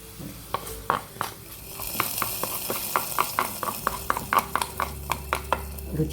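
Hot tempering poured into a coastal-style fish gravy, with a sizzling crackle and a rapid series of sharp clinks and stirring scrapes of a spoon against the pot, close and steady throughout.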